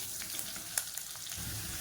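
Gentle, continuous frying sizzle from onions sautéing in a pan, fairly faint, with a few soft clicks of stirring.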